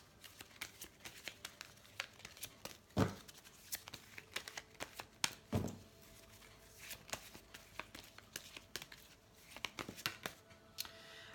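Tarot cards being shuffled by hand before a love reading, heard as a quiet, continuous run of soft riffling and flicking card sounds with a couple of firmer taps, close to the microphone and without talk.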